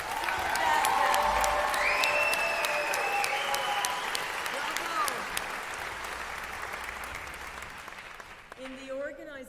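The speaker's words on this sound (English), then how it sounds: "One more round of applause for our Bravo." A graduation ceremony audience at LaurenHill Academy gives a loud, sustained round of applause mixed with cheers and whoops, hands clapping densely for several seconds before thinning out as a voice begins speaking.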